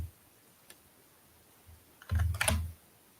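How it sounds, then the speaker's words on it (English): Typing on a computer keyboard while entering a search word in journal design software: a few quiet isolated taps, then a short loud cluster of rapid keystrokes with thumpy low end, alone without talk. "So what I'll do is just type in sunflowers"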